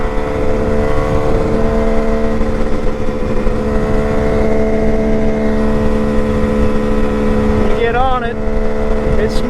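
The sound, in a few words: Kawasaki KH500 H1 two-stroke motorcycle riding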